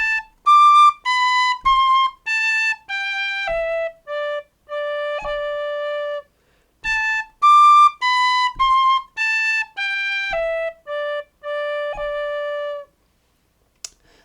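Closing bars of Paddy Fahey's Jig, an Irish tune, played solo on a whistle-like wind instrument: a clear, melodic run of held and ornamented notes in two phrases separated by a short pause, close and steady, with no talk.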